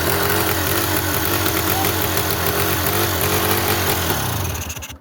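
A Polaris 400 Xplorer ATV engine idles loudly and steadily up close after a top-end rebuild, a rough, rapid chugging that continues before cutting off near the end; its carburetor needs adjusting.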